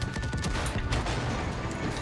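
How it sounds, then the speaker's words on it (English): Machine gun and cannon fire in the video game Far Cry 5 crackles in dense, rapid bursts of sharp shots throughout, loud and close. "I guess there's only machine guns. I think those are cannons."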